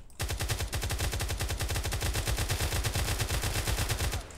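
Rapid automatic gunfire in a GTA multiplayer battle, a long unbroken burst of sharp evenly spaced shots, loud and close, running for several seconds before cutting off.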